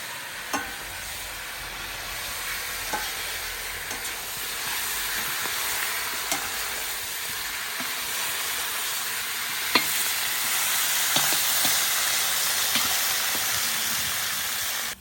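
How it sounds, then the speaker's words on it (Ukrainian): Meat for bograch stew fries over maximum heat, giving a loud, steady sizzle and hiss close up. Occasional clicks of stirring sound against the pan, and no one speaks. "І на максимальному вогні обжарюємо."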